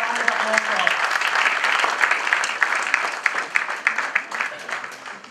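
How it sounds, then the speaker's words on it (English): A literary festival audience applauds a guest walking on stage. The dense clapping builds and then thins into scattered individual claps, and a voice speaks over the start. "Have a round of applause for her."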